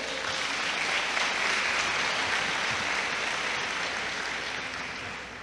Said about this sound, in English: Can we get a round of applause for these incredible graduates?